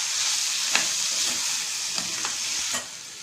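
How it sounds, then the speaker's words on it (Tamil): Chili powder and coriander powder sautéing in a pan for a thuthuvalai horse gram soup: a steady close sizzle broken by a few sharp stirring scrapes, and no one speaking. "நல்லா வதக்கிக்கோங்க."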